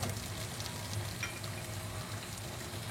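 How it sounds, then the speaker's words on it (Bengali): Chopped tomatoes fry with softened onions in a pan for a Bangladeshi kachki fish curry, giving a faint, even crackling sizzle that runs steadily throughout, with no one talking. "টমেটোটা দিয়ে আমি পেঁয়াজের সাথে একটু মিক্স করে নিব।"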